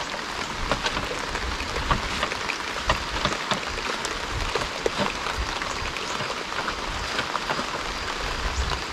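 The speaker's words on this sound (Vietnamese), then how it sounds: "Mưa đổ càng ngày càng lớn mọi người." Heavy rainforest rain pours continuously, a thick, close, even hiss packed with drops, steady throughout without any voices.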